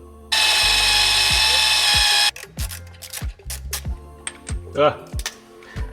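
A power drill whines at a steady high pitch for about two seconds, drilling out a hole in metal to 6.75 mm, then stops, followed by clicks, clanks and light handling of metal.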